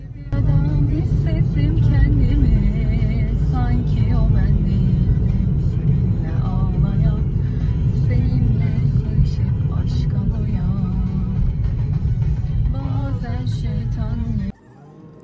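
A car drives through heavy city traffic in Urfa, with a steady loud engine and road rumble from inside and faint voices or sounds above it. The rumble cuts off abruptly at the end.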